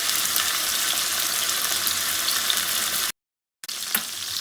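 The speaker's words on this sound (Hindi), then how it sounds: "और इनको धीमी आग पर हम लोग फ्राई करेंगे।" Boneless chicken breast pieces frying in oil over a low flame, a continuous bright sizzle that cuts off abruptly for a moment, then resumes with a light crackle.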